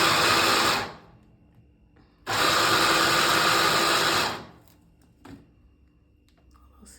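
Two loud bursts of a food chopper whirring as it minces peppers, about one second and then two seconds long, separated by quiet gaps with faint kitchen clatter afterward.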